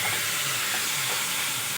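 Water hits a hot pan of spiced masala for a Bengali hilsa fish curry with taro, potato and eggplant, and it sizzles and hisses in a loud, continuous burst that cuts off abruptly at the end.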